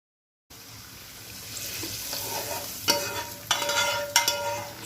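Onions and tomato paste sizzle steadily in a pan for lentil köfte, with a close, continuous frying hiss broken by a few sharp stirring scrapes and no speech.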